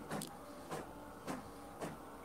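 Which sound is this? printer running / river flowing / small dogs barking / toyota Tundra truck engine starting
printer running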